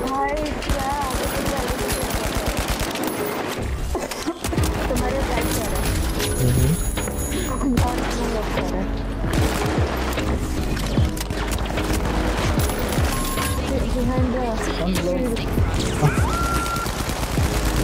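Dense automatic gunfire in the shooter game The Finals, bursts of rapid shots layered with game effects and music, loud and continuous, with players talking over the action.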